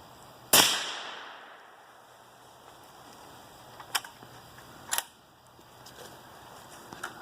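A single sharp gunshot cracks out near the start, fired at a wooden target behind a window during an outdoor glass impact test in Michigan, then fades into a quiet outdoor background with a few faint knocks and clicks afterward.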